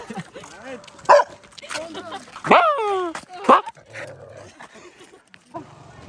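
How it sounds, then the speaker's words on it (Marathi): A village dog on the walking route to Shegaon barks a few times in short bursts while a person talks over it, the barks rising above the voice. "या गावातल्या कुत्र्यानं मला ओळखलं. हे पा भाऊ भाऊ करून राहिले"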